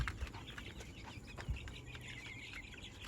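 Chickens cluck faintly on a small backyard poultry farm, with scattered soft clucks and bird calls over a steady low background hum, no talking.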